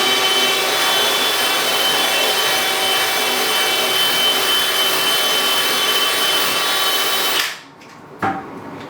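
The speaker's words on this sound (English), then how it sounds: "I'm just going to break through the porcelain tile" A power drill breaking through porcelain shower tile whines steadily and loudly at close range, then stops abruptly, leaving near silence broken by a brief clunk.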